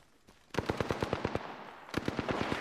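Rapid bursts of automatic gunfire from shooters on a rooftop, a quick string of sharp cracks, a brief pause, then another fast volley, fairly close and loud with no talk.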